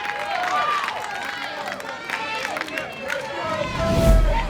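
Spectators at a 16U softball national championship title game cheer and shout after a strikeout, a lively babble of voices and calls that swells near the end.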